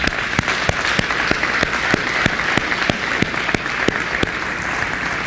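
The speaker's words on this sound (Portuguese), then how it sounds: "desde já uma salva de palmas" A crowd applauds steadily, with sharp claps standing out over a dense wash of clapping that keeps an even pace throughout.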